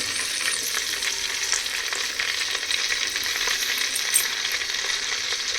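Mutton fat frying in a clay pot while being stirred continuously, giving a steady, close, dense sizzle with scraping stir sounds and no voices.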